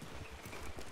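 A horse's hooves clip-clop in a quick, even rhythm in a Western video game, the footfalls fairly close over a soft background.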